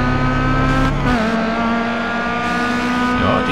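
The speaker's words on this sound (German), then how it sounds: "die geben doch gerade irgendwie schubartig Gas" Race cars in GRID Autosport, a British DLC cup race, roar with loud, sustained engine drone, AI cars surging on throttle close by with steady revving tones and brief tire squeal, no talking.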